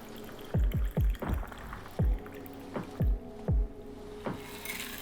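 Ice cubes rattle and clunk into a glass with liquid as a homemade drink is poured in the kitchen, a series of sharp close knocks with a splashy, sloshing flow between.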